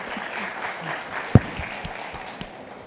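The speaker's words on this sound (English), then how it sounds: "I'm going to hold for applause because this is really exciting." A conference crowd at a developer keynote gives light, diffuse applause with scattered claps under a low room hum, and one sharp, louder clap or knock cuts through midway.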